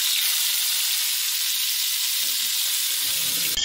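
Fish sizzling as it fries in a pan, a steady loud hiss running unbroken throughout, with a faint low clatter near the end.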